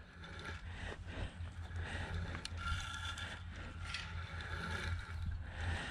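Trellis material is drawn tight with a ratcheting tensioner, giving a close, continuous clatter of clicking and grinding mechanism over a low rumble for several seconds.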